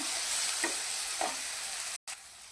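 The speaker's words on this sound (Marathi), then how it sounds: "तर बघा, काळे तिखट, हळद आणि सब्जी मसाला टाकलेला आहे, तर हाही आपण याच्यामध्ये चांगला मिक्स करून घेऊया।" Black chilli powder, turmeric and sabzi masala are stirred into a frying onion base for masoor dal, a close, steady sizzle with a couple of soft scraping strokes and a brief drop to silence near the end.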